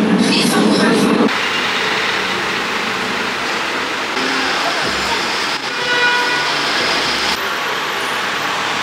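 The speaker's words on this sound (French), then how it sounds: "j'ai pris le métro pour rejoindre le centre-ville" Algiers metro train in motion, a steady loud rumble and rush of the ride filling the carriage, with a sharper burst at the start and shifting tones as it runs, heard from inside.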